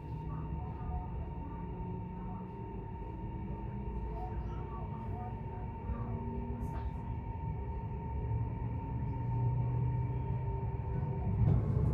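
A low, continuous rumble of a Chinese high-speed train at a station platform fills the scene, with a steady mechanical hum and faint higher tones, fairly close.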